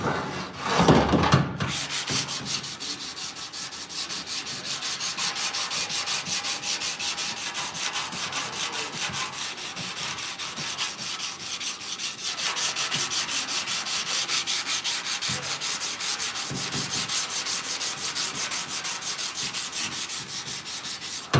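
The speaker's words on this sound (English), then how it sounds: "I'm sanding with 180." Steady, continuous rubbing of 180-grit sandpaper on a 1968 C10 grille shell, a dry scratchy hiss that keeps going with slight changes in pace, close up and without talk.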